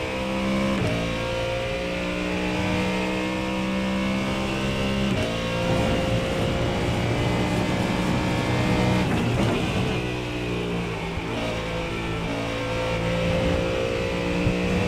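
Ford Mustang GT3 race car in iRacing at Silverstone, its engine droning steadily and loud throughout with rising and falling revs through gear changes, close and continuous with no talk.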